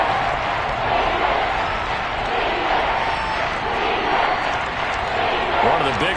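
A dense football stadium crowd roars continuously ahead of a big third down, a steady wall of loud cheering and shouting with no break, swelling slightly toward the end.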